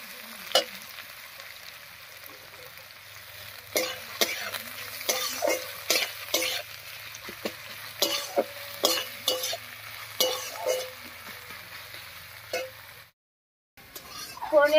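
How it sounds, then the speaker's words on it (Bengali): Chopped onions frying lightly in oil over tempered spices for a hotel-style duck egg curry, stirred with quick, irregular scraping strokes over a soft sizzle. A brief silence falls near the end. "ফোড়নের উপরে পেঁয়াজটা দিয়ে হালকা ভেজে নিয়েছি, একেবারে লাল লাল করবো না, হালকা ভাজা করে নিয়েছি।"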